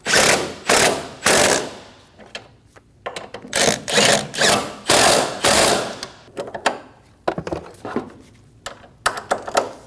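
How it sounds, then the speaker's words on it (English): A ratchet tightens the engine mount body bolts on a 2012-2022 VW Passat 2.5L in repeated bursts of rapid clicking, each run about half a second long, close and loud, with short pauses between strokes. "Snug the body bolts down for the mount"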